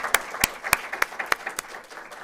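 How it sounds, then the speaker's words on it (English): A small lecture audience gives a short round of applause, a sparse scattering of distinct claps from a few people close by that thins out and fades. "So let's give Haley a round of applause"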